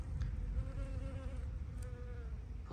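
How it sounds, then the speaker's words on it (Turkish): Bees buzz steadily close by, a wavering drone that rises and falls in pitch without pause. "Arılar"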